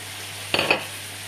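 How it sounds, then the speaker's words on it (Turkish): Rice with artichokes and peas is stirred in a pan, giving one short scraping swish with a soft sizzle partway through a quiet clip. "İyi güzel karıştırıyoruz."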